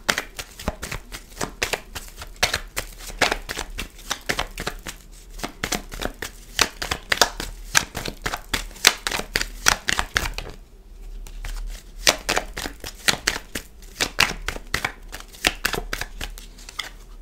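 Tarot cards being gathered up and covered on a table give off a quick run of crisp papery slides, taps and shuffles, close and steady, with a short pause midway before the rustling resumes.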